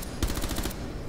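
Automatic gunfire in the Rainbow Six Siege video game as a player shoots at robots, a short rapid burst of about six close, punchy shots over a constant background bed.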